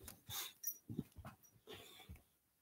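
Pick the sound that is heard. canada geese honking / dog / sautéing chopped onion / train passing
dog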